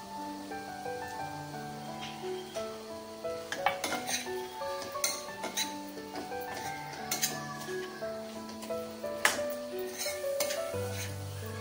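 Ground masala goes into a pan of jeera-miri potato curry, stirred with a metal spoon: quick clinks and scrapes against the pan over faint sizzling, with a steady rhythm and no talking.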